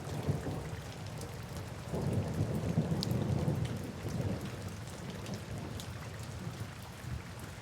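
Steady rain pours over a dense hiss of drops while low thunder rolls and swells in the middle before easing back into the continuous downpour, with no voices.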